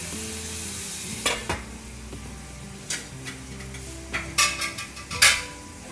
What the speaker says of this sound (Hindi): अब मैं इसमें लीड लगाकर इसे 1 से 2 मिनट के लिए फ्राई कर दूँगी।